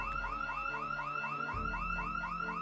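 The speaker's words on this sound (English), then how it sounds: "Did I just trigger an alarm?" A car alarm goes off in the Project Zomboid zombie survival video game, a steady repeating rising electronic whoop that cycles in rapid regular pulses, loud and continuous, with nobody talking.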